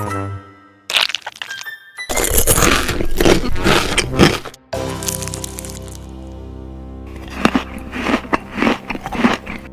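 Crunchy bites and chewing of tiny salt-baked fish layered with lettuce and Cheetos, loud close-up cracks and crunches in bursts separated by short pauses, with no talking.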